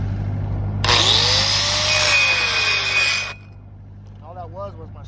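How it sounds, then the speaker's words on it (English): An angle grinder grinds down a weld hump in one loud, whining burst of about two and a half seconds that rises and then cuts off, with faint voice-like sounds shortly after. "a lot of times I like to grind this hump down"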